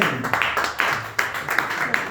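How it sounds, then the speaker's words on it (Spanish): A church congregation claps in praise to God during a Spanish-language service: a moderate, somewhat sparse patter of hands with a few sharper individual claps standing out, fairly close and steady, with no voices over it. "aplausos a nuestro Dios Todopoderoso"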